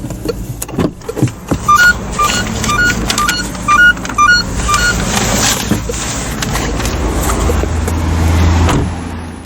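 Hazard lights on a 2020 Citroën C3 1.2 PureTech tick in a steady, evenly spaced rhythm of sharp clicks for several seconds, then give way to a broad rushing vehicle noise.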